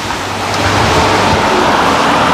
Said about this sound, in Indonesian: Ini anginnya kenceng, menghantam muka ya